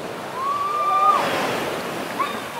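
Strong ocean waves on a beach at Siargao island roar as a steady, loud wash of surf, with a faint high tonal whine drifting over the top.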